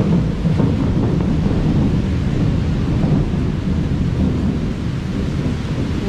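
Heavy rain pours steadily in Singapore while deep thunder rumbles nearby, with no voices.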